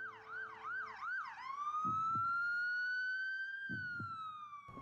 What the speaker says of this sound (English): You know, you hear ambulances